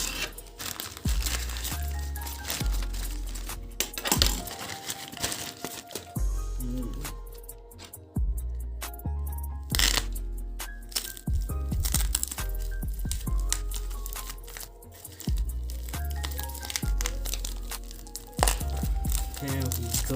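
Packaging of Tachikawa G calligraphy nibs being cut open, with crinkling plastic, snips and rustling handling noises close up, continuing throughout.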